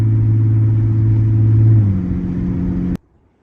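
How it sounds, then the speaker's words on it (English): A Toyota A90 Supra fitted with a Pure Drivetrains stage 2 transmission and billet converter, its loud close engine drone dropping in pitch at a quick gear change before cutting off abruptly. "I can hear the shifting."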